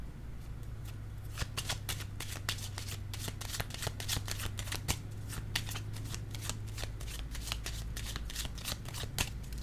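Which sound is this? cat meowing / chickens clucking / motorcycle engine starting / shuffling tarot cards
shuffling tarot cards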